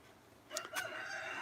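Roosters crow on a farm homestead, two distinct crows in quick succession rising above quiet background, followed by lingering faint outdoor ambience.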